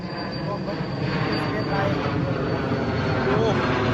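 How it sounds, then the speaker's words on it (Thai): An airplane flies overhead above a farm in Udon Thani, Thailand. Its engine gives a steady, loud, broad rumbling drone that holds for the whole stretch, with possible faint voices underneath. "เว้นวักให้เครื่องบินบินผ่านด้วยครับ เสียงเครื่องบิน"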